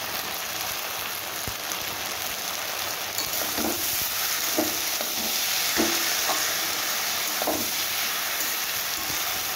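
Mustard paste sizzling in a pan as it is stirred while frying, a steady dense hiss broken by soft, evenly spaced scraping strokes.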